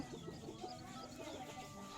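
A rooster among breeding hens on a farm, clucking and calling in short, overlapping bursts close by, with steady low background noise and no voices.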